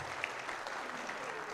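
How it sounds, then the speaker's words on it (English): Church congregation clapping at an Easter morning worship service, a steady, fairly faint wash of applause lasting under two seconds with no voices standing out. "Let's give him a round of applause."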